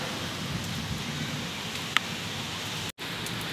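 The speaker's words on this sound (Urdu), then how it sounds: "ماشاء اللہ بارش آ رہی ہے بہت زور سے، اتنی زور سے بھی نہیں ہے، ہلکی ہے ابھی" Light rain falls steadily in a Pakistani village, a soft continuous hiss of drops on surfaces, with one brief tap and a short dropout and no voices.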